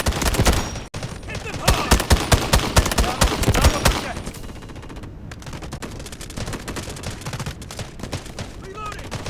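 Rapid automatic gunfire from the video game Delta Force Mobile in an attack-and-defend match, dense bursts of shots loud and close at first, then thinner, more scattered firing, with a voice calling out over the shooting.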